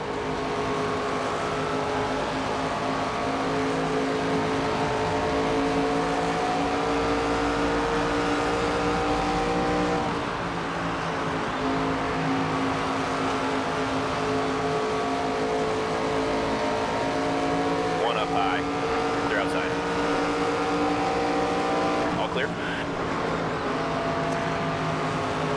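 Race car engines in NASCAR 25 at Dover, a steady loud roar with sustained high-pitched harmonic drone and slight pitch shifts throughout, continuous without pause.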